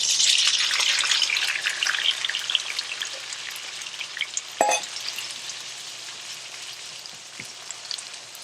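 Cherry tomatoes frying in hot browned oil in a pan, a bright steady sizzle that is loud at first and eases off, with a brief louder crackle and spatter partway through.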